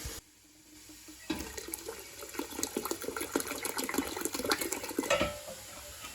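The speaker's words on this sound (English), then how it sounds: "we're going to get hot water from the tea kettle and add it in" Hot water poured from a tea kettle into a canning pot for pickles, a steady splashing pour that starts after a brief quiet moment, runs for several seconds and tapers off near the end.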